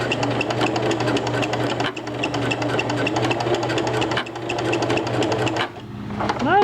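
A sewing machine runs a small zigzag stitch back and forth over elastic, a continuous close whirring hum that only dips briefly near the end.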